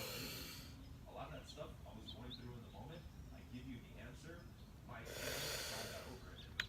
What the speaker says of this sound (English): so if I inhale